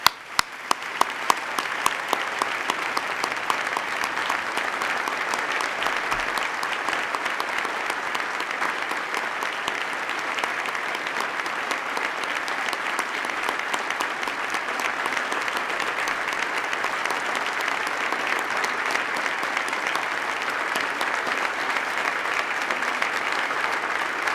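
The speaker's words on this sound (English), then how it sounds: "Please join me in a round of applause." A large audience at a 2014 State of the State address gives sustained, steady applause for first responders, with dense clapping that carries on evenly throughout.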